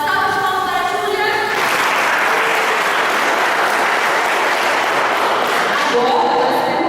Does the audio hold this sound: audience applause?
yes